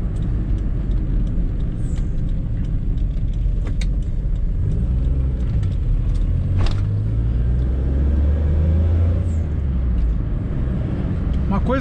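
A Suzuki Swift driving in third gear, its engine a low, steady rumble with road noise throughout, while someone speaks over it.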